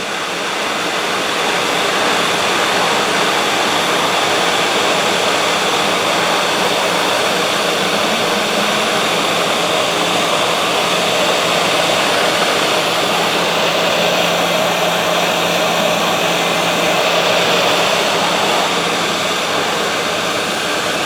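A heat gun blasts hot air onto a part of a Commodore C64 Tac-2 joystick during repair, a steady, loud, broadband roar that runs unbroken and alone through the whole stretch.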